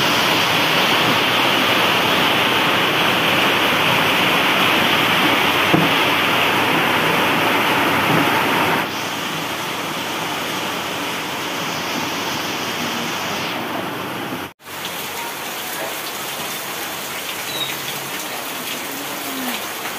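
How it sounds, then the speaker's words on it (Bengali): Heavy rain drums steadily as a dense roar heard from inside a room in a village home during a severe downpour, loud and continuous with a brief dip partway through. "এত বৃষ্টির শব্দ ঘরটার মধ্যে শুনতেই পাবেন, কত জোরে বৃষ্টির শব্দ হচ্ছে"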